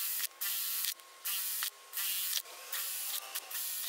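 A power drill bores holes in a plastic worm tower cap in about five loud, even whirring bursts of roughly half a second each, separated by brief pauses, heard close up with no talking.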